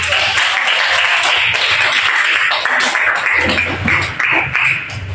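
A classroom group claps after a discussion presentation, several hands tapping in a brisk, uneven patter throughout, with low murmurs and shuffling underneath.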